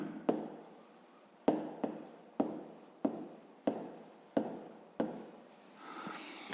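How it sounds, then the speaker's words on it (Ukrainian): Handwriting a math solution, probably pen on paper for a fifth-grade word problem: close, repeated scratchy strokes arrive in short bursts of roughly one a second, with brief pauses between them and no talk. "Отже, пишемо розв'язання."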